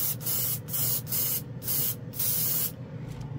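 An airbrush sprays Inspire chrome gold paint in several close, hissing bursts separated by brief pauses.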